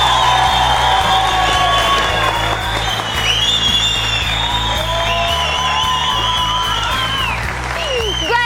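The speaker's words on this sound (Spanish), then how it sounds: "Un aplauso fuerte para ella." Loud audience applause fills the room throughout, steady dense clapping mixed with cheers and whoops from a crowd at a tribute event.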